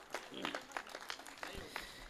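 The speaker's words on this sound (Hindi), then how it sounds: "एक बार उनके सम्मान में ताली हो रही" Applause from an audience at a Hindi kavi sammelan poetry gathering during the 2023 Lal Kuan Phagan event: a scattered, quiet patter of claps with voices murmuring underneath.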